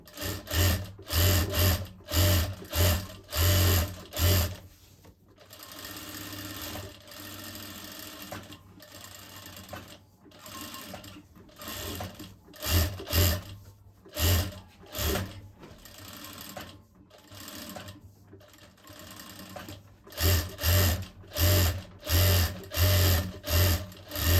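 Sewing machine stitching along the edge of a sleeve-cut blouse, bursts of rapid mechanical thumping in repeated runs with softer handling sounds between, close and alone.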